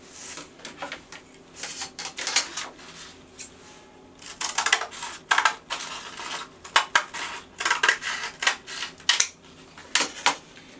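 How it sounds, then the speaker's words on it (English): Scissors snip through a sheet of sandpaper marked to the width of a sanding block, a series of sharp, gritty cutting bursts in uneven clusters, close and moderately loud, with no talking. "you can cut it through with a pair of scissors"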